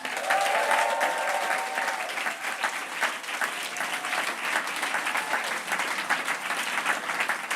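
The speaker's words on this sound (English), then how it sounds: "ask for everyone else to give a massive round of applause for all of the people that put their names in this hat" Audience applause fills a poetry night, steady dense clapping throughout, loud and close, with no talk over it.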